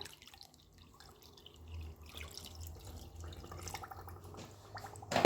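Water trickles and splashes from a tap into a pot of sugar while homemade honey syrup is prepared, a faint, steady pour with dripping that swells slightly toward the end.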